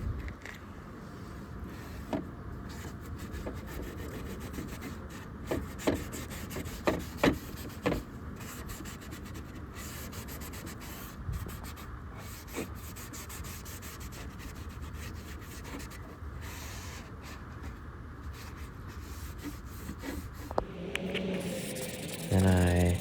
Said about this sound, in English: Then I just wet sanded it a bit. I think this is like 1500 grit